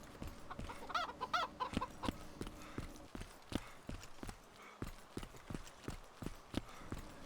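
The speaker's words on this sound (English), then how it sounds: "And then I heard the chickens." Chickens cluck and squawk in the video game DayZ amid steady hoof-like clip-clop footsteps, a busy farmyard soundscape with repeated sharp clicks throughout.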